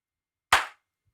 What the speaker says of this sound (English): Maybe everyone try a clap